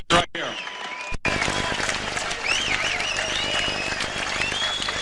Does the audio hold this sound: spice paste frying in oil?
no